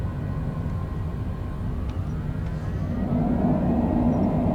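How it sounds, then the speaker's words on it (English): An aircraft landing at Branson, Missouri airport applies reverse thrust on the runway. A steady, loud broadband engine roar builds noticeably partway through, heard from inside the plane with no voices. "Reverse thrusters."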